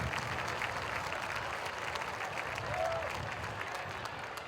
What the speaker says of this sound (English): Let's have a nice round of applause for Jerry